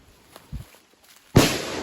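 A single sharp bang rings out at a distance after a quiet stretch with a faint thump, followed by a brief echoing decay.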